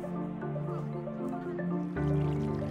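Splashing and trickling water in a Minecraft waterfall, a continuous watery patter with drip-like sounds over a steady tonal game background, moderately quiet.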